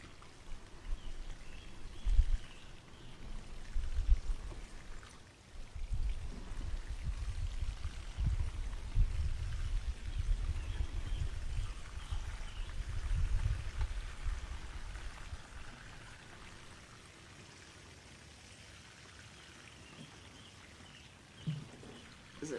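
Water pours from a two-handed 3-gallon bucket onto garden plants, a steady low splashing rush that swells in the middle and then tapers off, fairly close with no talk.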